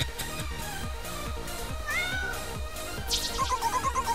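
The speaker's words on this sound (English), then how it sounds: "This is the same cat from earlier." A cat in the video game Mad Rat Dead gives a couple of short meows over a driving, rhythmic music track, the cries rising briefly above the steady beat.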